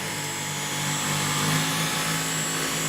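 A Dyson V11 cordless vacuum runs on its low setting over carpet, giving a steady, close whooshing motor drone that holds at an even level throughout with no talking.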